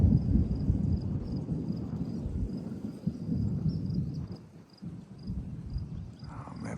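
Thunder rolls through a monsoon rainstorm over a desert garden, a long deep rumble swelling and easing, with a thin steady insect chirring high above.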